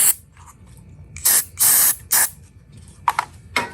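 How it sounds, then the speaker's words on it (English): Several loud hissing bursts of contact cleaner sprayed onto a wet, water-damaged drone, three longer blasts followed by a few short quick squirts, close and clear with no talking. "I'm going to hit it up with contact cleaner real quick"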